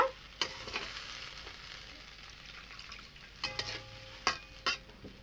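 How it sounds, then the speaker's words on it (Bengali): Fish curry gravy bubbling in a pan after water is added, a low, quiet simmer broken by a few sharp clinks and scrapes of a spoon against the pan, with no voices. "দেখো আমি জল দিয়ে দেখো ঝোলটা আমার একদম ফুটছে মাছের ঝোলটা"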